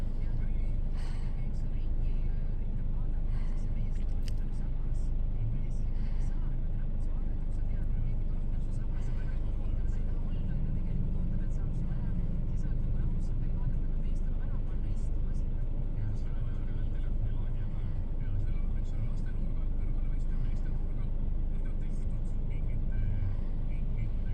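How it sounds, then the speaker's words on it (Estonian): A steady stream of cars rolls past one after another on a road near the sea in Finland, a continuous close rumble of engines and tyres lasting throughout, with voices talking over it. "Nii palju autosid tuleb ikka järjest."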